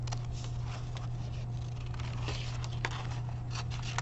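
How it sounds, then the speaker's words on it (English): Scissors snip through paper while cutting out an evergreen tree shape for a craft, giving soft, close, irregular crisp cuts over a steady low hum. "So I'm bringing my scissors all the way in, turning it, cutting it."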